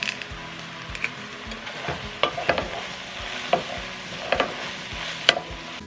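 Garlic frying in a pan with sausage, onions and mushrooms, giving a steady close sizzle broken by scraping stirs and occasional clacks of a utensil against the pan.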